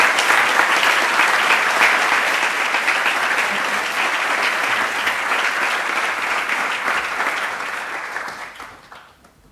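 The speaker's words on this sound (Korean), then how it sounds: "총장 신부님께서 백서를 총대리 주교님께 전달해 드릴 때 뜨거운 박수 부탁드립니다." Warm, loud applause fills the hall at a vision proclamation ceremony at a Catholic university as a white paper is handed to a bishop, sustained clapping that gradually thins and fades out near the end.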